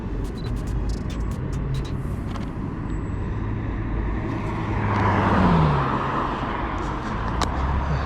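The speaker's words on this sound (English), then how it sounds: "Wait for a car to go past." A car passing along a road at night, its tyre and engine noise swelling to a peak mid-way, then fading. A few faint clicks are heard as well.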